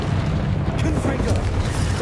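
A Confringo fire spell explodes in Hogwarts Legacy with a loud, deep, rumbling blast that fills the whole moment, while a player's voice shouts over it.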